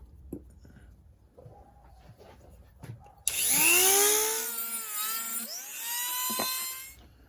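Dremel rotary tool cutting slits into bolts on a 1992 Honda Civic hatchback throttle body, a loud high-pitched whine starting abruptly after quiet handling noises, dipping and rising in pitch as it bites into the metal.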